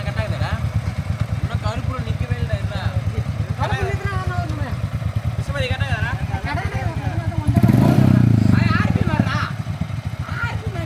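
A motorcycle engine idling with a steady, pulsing thump, briefly revved louder and rougher around the middle before dropping back to idle, with people talking over it throughout.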